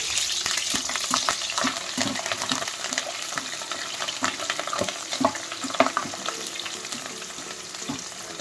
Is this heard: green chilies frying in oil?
yes